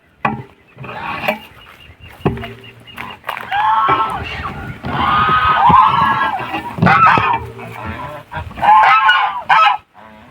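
Geese honking loudly and repeatedly on a Thai farm where cattle and ducks are also kept, in overlapping bursts of harsh calls with brief pauses, close by.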